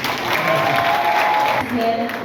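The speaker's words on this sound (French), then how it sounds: "Prière d'applaudir à nouveau le chef du gouvernement" A crowd applauds Haiti's head of government after a speech at a Women's Day event on March 8, a steady wash of clapping while a voice speaks over it.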